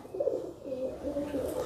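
A high-flying Mayoret pigeon coos softly and close, giving a few low, throaty rolling calls in a steady rhythm against faint background hum.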